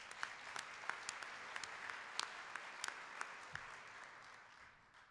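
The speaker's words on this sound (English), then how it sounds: "So a round of applause for TJ." Faint, distant applause from a modest crowd at a math conference breakfast awards event rolls on steadily, with a few sharper individual claps standing out before it fades.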